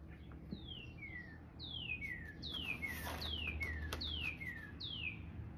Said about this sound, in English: I don't know if you can hear the birds in my video, but there's a real loud one out there somewhere.